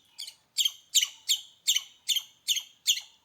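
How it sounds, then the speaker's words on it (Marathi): A bird gives a sharp, clear call eight times in an even rhythm, close and loud against near silence, in a Konkan village. "पक्ष्यांचे आवाज बघा."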